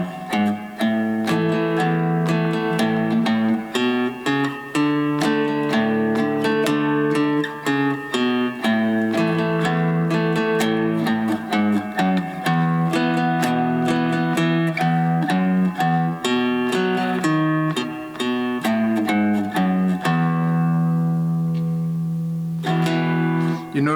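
Full chords on a three-string cigar box guitar play the intro of a song as a steady rhythmic boom-chicka strum, loud and close, with the last chord left ringing at the end.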